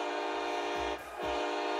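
A heavy freight train passes with a continuous broad rumble and clatter, its low horn sounding twice in short blasts close by.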